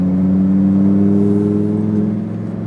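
A Lamborghini STO accelerates hard on a race track, its engine a loud, steady, close drone with harmonics rising slowly, easing slightly near the end.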